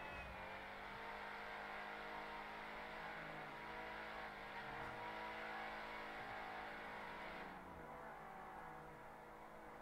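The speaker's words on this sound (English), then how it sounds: "Just hear it. Like that engine roars." The engine of a Nightshark armored SUV in a video game roars with a dense, sustained growl and layered harmonic drone, rising and falling slightly as it revs, heard close with no talking.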